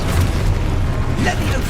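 A deep booming spell explosion in Hogwarts Legacy, a dull low rumble running under combat noise, loud and close.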